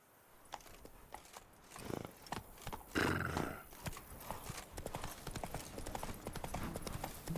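Roach, Geralt's horse in the Witcher 3 video game, clip-clops along with steady hoofbeats that swell and continue throughout, with a louder burst in the middle.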